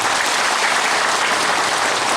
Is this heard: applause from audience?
yes